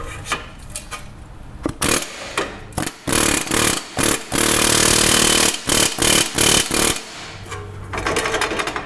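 Hammer blows strike the bottom of a Nissan wheel bearing to turn it, a loud close run of sharp metallic hits in irregular bursts, some rapid and clustered, with scraping and handling noise between them.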